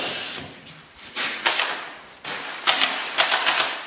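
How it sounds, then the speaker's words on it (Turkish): A power drill bores holes for electrical sockets in the wall of a steel prefab house, running in several short bursts separated by pauses, close and fairly loud. "Gördüğünüz gibi ölçüler dahilinde delme işlemleri yapılıyor."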